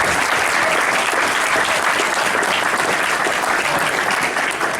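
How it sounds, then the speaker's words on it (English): An audience claps steadily at a Stoxkarts senior karting awards ceremony in 2015, a full, even burst of applause that holds throughout at close range. "give him a round of applause"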